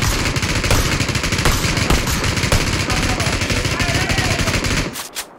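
Heavy, rapid automatic gunfire in a PUBG squad match, loud and close in a dense continuous burst that cuts off abruptly near the end, with voices talking faintly underneath.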